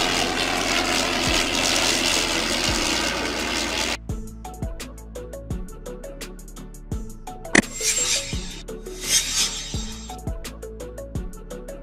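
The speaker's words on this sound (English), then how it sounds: "Triplane, an aircraft with three sets of wings stacked on top of each other," An early-aviation triplane, an aircraft with three stacked sets of wings, drones loudly with its engine and propeller, then gives way to a rhythmic chugging engine beat with repeated sharp pulses and a few louder bursts.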